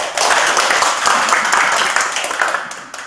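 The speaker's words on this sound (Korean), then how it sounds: "박수 한번 같이 보내겠습니다." An audience at a Korean lecture bursts into steady, dense applause, many hands clapping together loudly for about three seconds before it begins to thin out.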